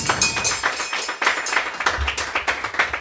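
Several people clap for a few seconds in a round of applause on a podcast, with irregular, close handclaps that are moderately loud and carry no talk over them.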